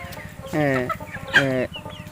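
Two loud, drawn-out hen clucks, close by, as chickens are fed, with a short pause between them and faint background noise.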